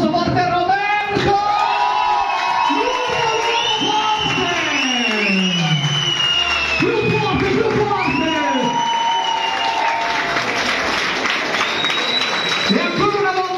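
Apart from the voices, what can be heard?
audience applauding and cheering for Roberto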